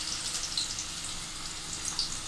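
Ginger pieces fry in hot oil with mustard seeds and urad dal, giving a continuous close-up sizzle with a bright, crackling hiss and no voices.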